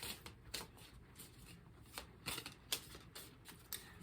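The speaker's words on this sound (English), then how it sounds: "Make sure you can see me shuffling." Tarot cards are shuffled close up in quick, irregular riffling bursts against a quiet background.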